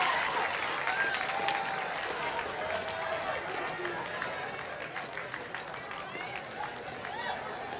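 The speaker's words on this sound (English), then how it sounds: "a hearty round of applause for the display teams of Recruit Training Course 1" A large outdoor crowd at a Botswana Defence Force recruit pass-out parade gives sustained applause for the recruit display teams, a steady wash of clapping with murmured chatter mixed in.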